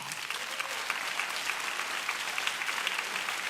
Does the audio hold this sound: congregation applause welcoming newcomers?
yes